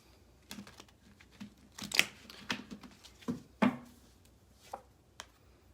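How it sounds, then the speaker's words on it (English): A tarot deck is shuffled by hand in a quiet room, producing soft, irregular riffling snaps and card slaps close to the listener, with a few sharper clicks among them. "So let me shuffle a couple more times."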